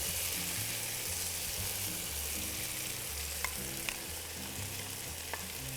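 Tomato sauce sizzles and crackles steadily in a hot frying pan, with a dense, continuous hiss running throughout and a few small sharp pops near the end. Nobody speaks.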